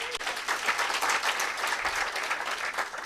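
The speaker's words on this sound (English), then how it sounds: "Could you clap for yourselves?" An audience at a climate justice summer school in Nairobi applauds, a steady wash of many hands clapping together for about three seconds without pause.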